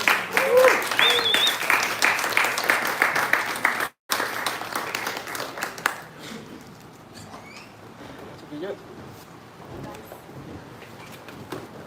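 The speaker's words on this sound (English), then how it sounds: "So please receive with a big applause to Fabián, Dayana, Julio, Leonardo," An audience breaks into applause for a group of student presenters at a talks event, loud and dense for about four seconds, then a brief cut and a thinner, fading patter of clapping with murmuring voices beneath.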